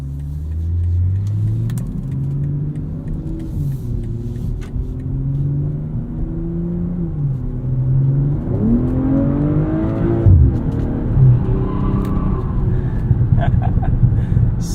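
Engine of a 2023 BMW M340i xDrive in Sport Plus mode revving and pulling hard from inside the cabin, a steady loud drone rising and falling through gear changes, with a brief sharper rev burst near the end.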